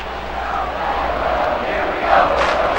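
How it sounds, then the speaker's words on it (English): Stadium crowd noise from the MLB 2K5 baseball video game, a Brewers versus Astros game, as a steady excited cheering roar that swells near the end, loud and without speech. "the crowd's all excited, but they want more"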